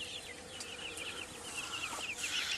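Chicks in a backyard poultry flock cheeping in a busy overlapping chorus of short high peeps, close and continuous, with faint clucking from older birds underneath.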